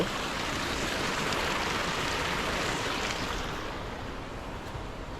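Water flows steadily along a stream on a cold day in the UK, a close, even rushing wash that fades slightly toward the end, with some wind noise.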